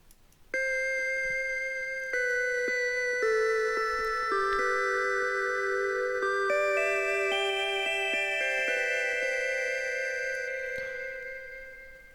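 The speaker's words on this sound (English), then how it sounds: "I found this bell synth, and I did the counter melody to the lead" A bell synth plays a counter melody in FL Studio, clear ringing tones stepping through a slow line of sustained, overlapping notes, steady and alone with no voices.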